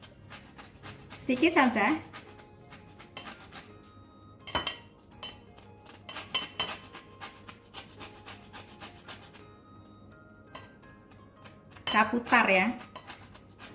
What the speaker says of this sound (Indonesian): Kita parut kulit jeruknya ini